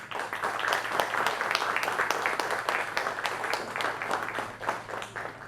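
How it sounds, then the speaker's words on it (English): Warm round of applause from a film festival audience welcoming a film editor onto the stage, steady dense clapping with sharp individual claps standing out, sustained at moderate loudness throughout. "please join me in welcoming him with a warm round of applause"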